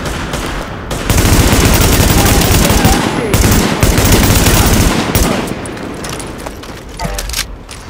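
Gunfire in the video game Tom Clancy's The Division: loud, dense automatic bursts rattle almost continuously, easing off near the end, with game voices underneath.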